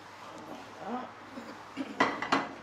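Metal pot lid clinks down on a cooking pot as it is covered and set on the fire during preparation of bébélé in Marie-Galante, two sharp clanks near the end after quiet kitchen shuffling, close and clear.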